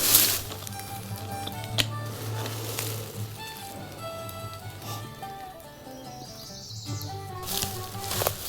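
Wild turkeys gobble somewhere in the woods, the calls distant and echoing over a steady low hum, with a few sharper bursts breaking through the quiet outdoor background.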